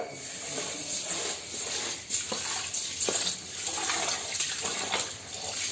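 Rice being washed in water by hand before cooking a sweet rice dish, giving a steady wet swishing and splashing that runs continuously at close range, with no voices.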